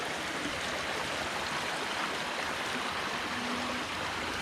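Rainwater flows steadily out of dense jungle vegetation, a continuous broadband rush and gurgle like a small stream, close and even throughout with no voices.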